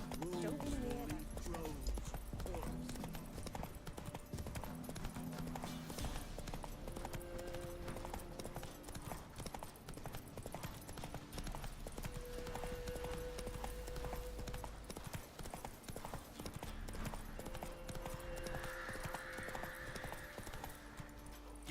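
Roach the horse's hooves clip-clopping at a gallop in The Witcher 3, a steady rhythmic beat running throughout under game music and speech.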